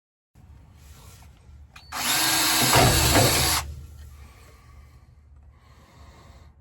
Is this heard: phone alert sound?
no